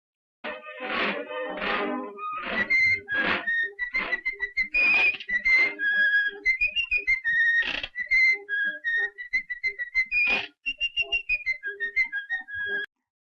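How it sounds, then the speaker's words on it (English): Someone whistles the folk tune Turkey in the Straw as in the 1928 Steamboat Willie cartoon, a lively run of bright, bouncing notes with short chirpy phrases and brief pauses, clear and close. "he's whistling Turkey in the Straw"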